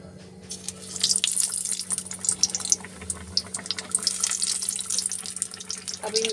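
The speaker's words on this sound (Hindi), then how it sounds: "अब इनको हम अच्छी तरह से फ्राई करेंगे।" Bread pakora frying in hot oil over low gas, a continuous crackling sizzle with bursts of spattering, heard close with no speech.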